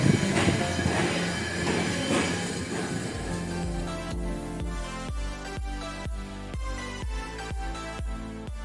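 A train runs on rails with a loud close rumble, then settles into a steady rhythmic clickety-clack of wheels over rail joints.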